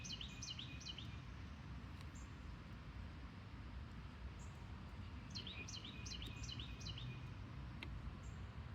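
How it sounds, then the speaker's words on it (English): A bird trills a series of bright, quick chirps in two bursts, fairly distant, over a steady low rumble of outdoor background noise. "Y'all hear that bird?"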